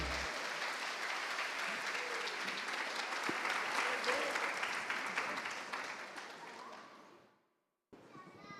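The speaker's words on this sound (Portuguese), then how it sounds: "Palmas" Church congregation clapping during a family worship service, a dense sustained round of applause with a few children's voices mixed in, fading out near the end before a brief pause and renewed noise.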